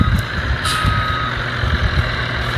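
A truck backs up on a farm with its reversing alarm beeping over a loud, rumbling diesel engine, with an air-brake hiss mixed in close by and no one speaking.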